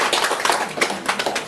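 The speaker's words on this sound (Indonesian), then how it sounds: "Saya minta tepuk tangan teman-teman." A short burst of audience clapping at an Indonesian gathering, dense and steady hand claps from a group close by with no talk over them.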